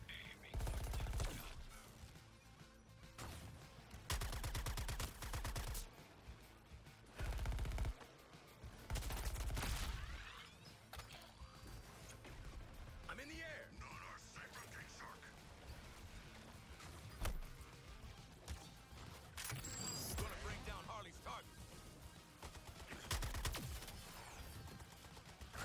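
Loud gunfire from a semi-automatic weapon in a horror video game, with repeated sharp shot bursts spread through a long noisy stretch, among other game sounds.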